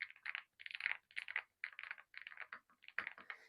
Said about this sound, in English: My favorite part about this keyboard is the sound.